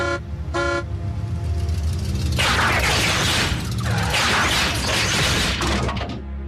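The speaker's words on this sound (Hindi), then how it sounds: "बुरी खबर के लिए एक बार हॉर्न बजाओ और अच्छी के लिए 2 बार" A car horn gives two short toots, then a longer stretch of loud honking blends with clattering, rattling mechanical noise in an animated robot-battle scene.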